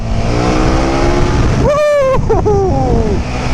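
A KTM Super Duke GT motorcycle engine drones steadily, then revs sharply upward and settles back, recorded close with a harsh, buzzing tone.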